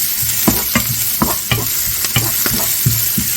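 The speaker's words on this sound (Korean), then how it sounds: "그래서 파를 살짝 노릇노릇하게 구워버릴 거예요." Green onions frying in oil in a pan, a steady loud sizzle broken by repeated scraping stirs from a utensil, up close, with no talk.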